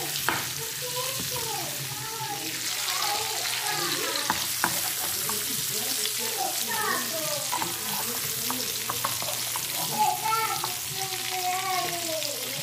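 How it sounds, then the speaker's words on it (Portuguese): Vegetables and garlic sautéing in a pan, a continuous close sizzle and crackle with scraping stirs throughout, steady in level, no one talking. "Aí eu vou dar logo uma refogada aqui nessas coisas, nas verduras, e já colocar tudo dentro da panela"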